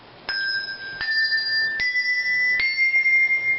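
Handbells rung four-in-hand, four clear struck tones stepping upward one after another, each ringing on with a bright sustained shimmer and overlapping decay, heard alone without talk.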